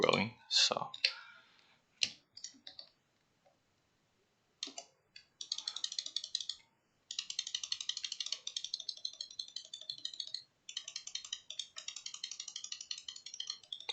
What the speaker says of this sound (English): mouse clicking ASMR.